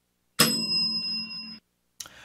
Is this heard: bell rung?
yes